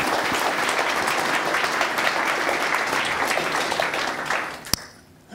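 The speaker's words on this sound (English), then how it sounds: "Now a round of applause for Alex and Dan." Conference audience at GTAC 2016 giving speakers a sustained round of applause, dense even clapping filling the room for about five seconds before cutting off abruptly.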